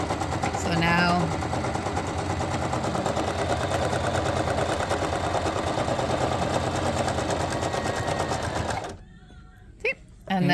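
A sewing machine stitches in place with a loud, fast, steady mechanical whir for several seconds, then stops abruptly, followed by a brief quiet handling noise.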